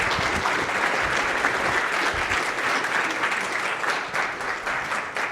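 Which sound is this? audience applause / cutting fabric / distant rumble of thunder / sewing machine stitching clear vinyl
audience applause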